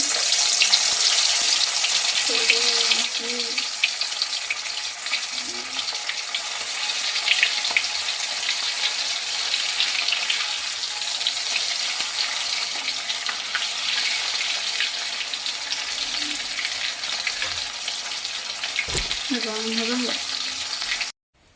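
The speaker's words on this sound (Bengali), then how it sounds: "তেল ভালোভাবে তাতিয়ে নিয়েছি এবার একটি দুটি করে ছেড়ে ভালোভাবে ছেঁকে নেব" Rohu fish kofta balls deep-frying in hot oil, a loud, steady hiss and crackle running throughout, with brief clatter near the start and end.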